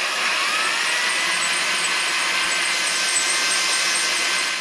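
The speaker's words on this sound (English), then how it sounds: "So we have some more drilling to do." A steady, high-pitched whine of a power drill boring holes in metal for a trailer hitch, running continuously, loud and close, with no pauses and no voices.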